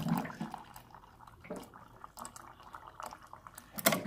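Steaming hot water pours and splashes faintly in short, uneven gurgles and drips, close but quiet, ending with a sharper splash.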